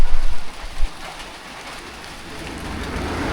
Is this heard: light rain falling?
yes